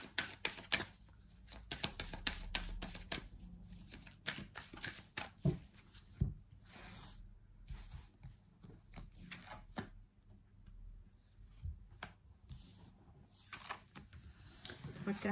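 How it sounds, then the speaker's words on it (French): Persian tarot cards shuffled and handled in a series of soft, papery riffles and taps, close and fairly quiet, with irregular pauses and no talking. "on va prendre 3 cartes du tarot persan de Madame Indira pour aller clarifier un petit peu ces énergies principales"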